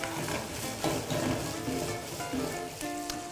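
Chorizo sizzles and spits in a pan with a close, steady frying hiss, broken by light scraping and stirring of a spoon.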